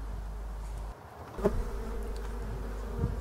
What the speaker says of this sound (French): Sinon les frelons volent devant le filet